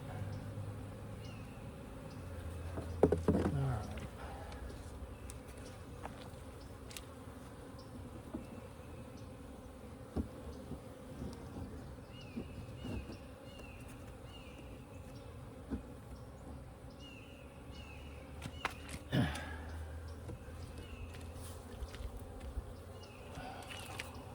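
Honeybees swarm around an opened hive during a Demaree setup, giving a steady, close buzzing drone throughout with scattered soft knocks and handling thuds.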